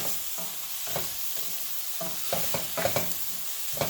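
Garden tomatoes sautéing with a teaspoon of salt in a pan for a spicy curry: a steady sizzle broken by repeated scraping strokes of a spoon stirring the pan, close and moderately loud, with no talk.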